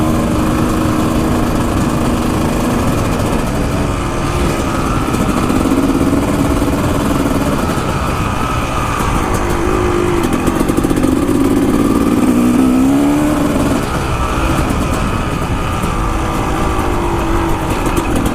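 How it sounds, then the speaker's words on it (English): A two-stroke dirt bike engine runs continuously nearby, idling with a buzzy drone and rising in a few brief revs, with no voices over it. "the two-stroke sound is almost as sweet, if not sweeter."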